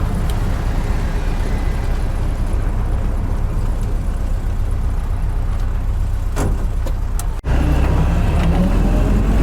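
A 1942 Willys Jeep engine on a test drive, a steady rumbling drone with road and wind noise throughout and a brief dip near the end before the roar resumes, loud and close with no talking.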